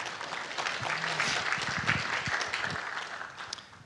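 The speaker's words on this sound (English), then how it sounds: "We should all clap for Corey." A small conference audience claps for a few seconds, a moderate, fairly close patter of hands that thins out toward the end, with brief speech mixed in.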